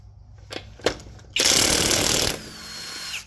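Impact wrench rattling loose the over-torqued lug nuts on a 2014 Ford Fusion's front wheel: a few short clicks, then one loud, dense burst of about a second, close by, fading into quieter whir.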